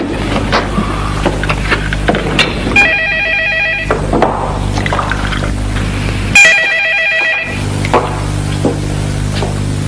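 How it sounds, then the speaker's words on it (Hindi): A telephone bell rings in a classic Pakistani TV drama scene, two bursts of repeated ringing over a steady background hum, with a clear pause between them. "टेलीफोन बज रहा है"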